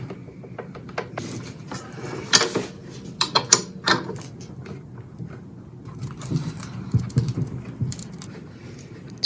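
Clamps being cranked down on a freshly glued wooden drawing board, a close run of ratcheting clicks and metallic turns in irregular bursts, with no talking.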